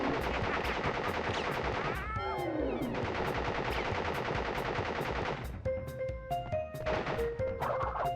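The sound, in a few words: gunfire from a boss in the video game Crash Bandicoot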